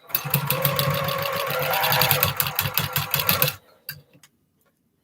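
A sewing machine with a walking foot stitching a quarter-inch seam on a scrap quilt block, a close, rapid rhythmic run of needle clatter for several seconds that stops abruptly, followed by a few faint clicks.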